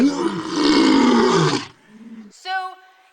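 A lion roars loudly and close for about a second and a half, a deep rasping blast that cuts off abruptly, followed by a short quieter groan and a brief higher tonal call.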